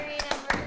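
Three quick hand claps or slaps from a clapping game played by a group indoors, soft and brief in an uneven rhythm against a quiet background.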